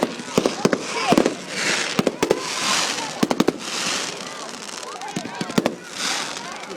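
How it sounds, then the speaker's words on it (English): Fireworks going off outdoors in the UK, a series of sharp bangs and crackling bursts in quick clusters, loud and fairly close, with a voice talking between them. "What do you think of the fireworks?"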